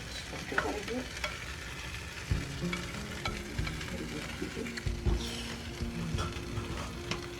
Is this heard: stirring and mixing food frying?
yes